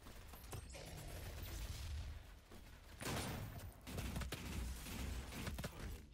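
Burst rifle gunfire in DOOM multiplayer, faint, quick rattling bursts of shots mixed with other game effects, firing repeatedly at irregular intervals with no talk.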